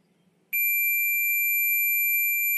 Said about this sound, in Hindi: तो इसको ऐसे लगाएंगे तो ये बीप साउंड करेगा